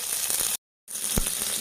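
Ivy gourd frying in a pan gives a steady, close hiss of sizzling oil that cuts out briefly and then resumes, with a faint stir or clink partway through.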